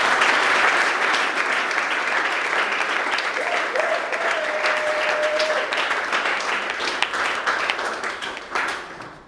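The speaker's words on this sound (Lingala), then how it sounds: "Que je vous prie tous d'applaudir," An audience at an NGO event gives a sustained round of applause. Steady, dense clapping lasts throughout and tapers slightly toward the end, with a faint voice briefly underneath.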